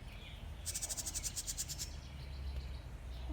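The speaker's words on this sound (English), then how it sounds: "It's a little bitty bird chirping." A small bird chirps in a garden, a quick run of about a dozen rapid high, thin notes, faint and a little distant over low background rumble.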